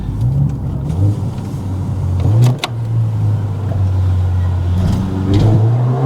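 Mercedes-AMG A45 S engine recorded while driving on the road toward Monaco, loud and close. Revs climb through gear changes, with a sharp shift blip in the middle, and no one speaks.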